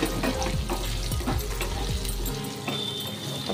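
Onions and chopped green chillies fry in a pan for a vegetable curry, giving a steady close sizzle with a few soft stirring clunks and no talking.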